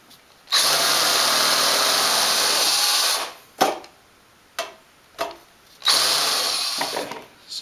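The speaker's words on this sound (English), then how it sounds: "So I use a unibit on my drill" A power drill fitted with a unibit bores through a plastic casing in one long loud whine lasting about three seconds, then a few short bursts follow and a final longer run, close up with no talk.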